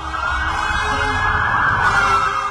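A fire engine siren wails loud and continuous inside a road tunnel, its steady tone echoing over the hum of traffic.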